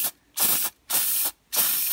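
Carburettor cleaner sprays onto a mower engine carburettor in short, close, sharp hissing bursts, about four quick squirts separated by brief pauses.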